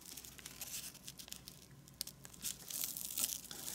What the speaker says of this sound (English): let's fold this flap to here, right on the existing crease